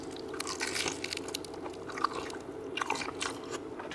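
Quiet, close crunching bites into a fried beef spring roll (popia), with several crisp snaps and soft chewing over a low background hum.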